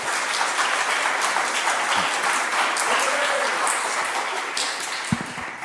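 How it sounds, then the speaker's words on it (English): Several people clap at once during testimony before a state legislative committee, giving a sustained patter that fades toward the end, with a couple of sharp knocks near the close. "This isn't the time or place for clapping."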